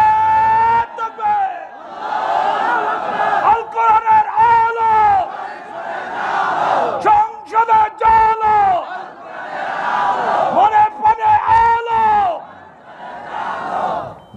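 A large crowd at an Islamic religious gathering chants takbir in repeated loud, unified waves, each surge swelling and fading in a steady call-and-response rhythm, with a voice leading between the chants.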